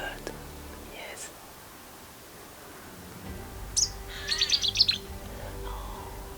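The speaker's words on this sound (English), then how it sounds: "There was a small bird." A small bird chirps near a photography blind in woods where woodpeckers and jays are found, giving a few short, high, bright calls in a quick cluster. A person whispers softly beneath.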